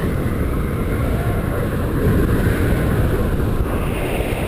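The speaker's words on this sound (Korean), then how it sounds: "바람 소리도 점차 거세집니다." Steady, strong wind roars across the microphone during a paragliding flight in the Himalayas, a continuous broadband rush with no breaks or voices.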